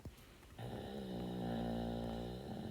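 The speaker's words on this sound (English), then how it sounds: "Sorry, my dog is snoring." A dog snores indoors in a long, droning rasp that settles into a sustained, slightly rising tone after a quick intake, close and fairly loud with no talking over it.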